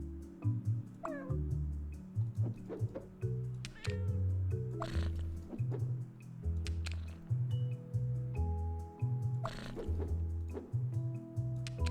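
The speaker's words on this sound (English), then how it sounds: "can meow in 10 different languages. 10 different cat languages." A house cat meows repeatedly, with several short, distinct calls scattered over a looping low music background, fairly close and clear, some calls rising into drawn-out caterwaul-like cries.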